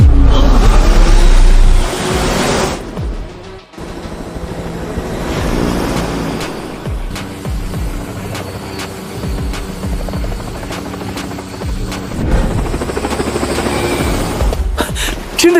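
A new-generation aerospace engine running in full-power mode and flying, a loud, sustained roaring rush that surges and shifts with a brief break, rising again toward a powerful, continuous blast near the end.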